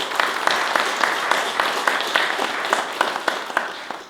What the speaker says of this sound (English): You might just acknowledge it. A round of applause.